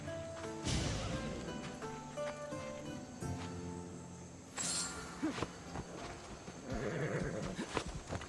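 A horse in Assassin's Creed Odyssey clip-clops steadily along, with a clear neigh partway through, hoofbeats fairly close and continuous beneath light ambient game music.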